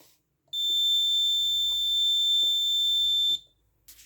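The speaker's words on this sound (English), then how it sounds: "Switch on, stick detection, alarm on." A shrill electronic alarm from an Arduino-based ultrasonic blind stick sounds in one steady, piercing tone for about three seconds, with faint clicks and handling noise around it.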